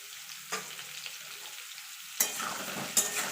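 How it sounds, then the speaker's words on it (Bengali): Potatoes fry with a little salt and turmeric for a vegetarian aloo dum, a soft steady sizzle broken by a few louder scraping stirs, close by and with no one talking. "এবার ভালো করে লাল লাল করে ভেজে নেবো যতক্ষণ আলুর গায়ে একটা রং না ধরছে"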